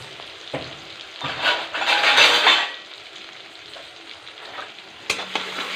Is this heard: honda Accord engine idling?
no